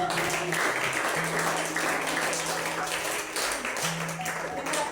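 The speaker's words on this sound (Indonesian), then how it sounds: "Beri tepuk tangan sekali lagi." Students in a grade 9 Indonesian-language class at a junior high school applaud after a group presentation, a continuous even patter of clapping from a roomful of people at moderate level, with some voices mixed in.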